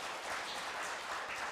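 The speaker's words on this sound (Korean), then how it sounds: "그런 분들만 한번 박수 한번 보내주시겠어요?" An audience at a Korean government policy forum lecture applauds, a brief, dense, even wash of clapping with no voices.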